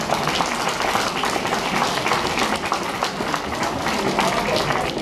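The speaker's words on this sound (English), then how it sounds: "let's have a round of applause for Alex" A gala crowd breaks into sustained applause for an honoree, many hands clapping densely and evenly for about five seconds, moderately loud and close, with no voice rising above it.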